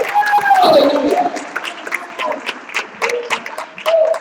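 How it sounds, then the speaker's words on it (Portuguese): Church congregation clapping during a service, a loose, uneven patter of hands with a voice calling out over it and dying down partway. "Vamos melhorar esse aplauso."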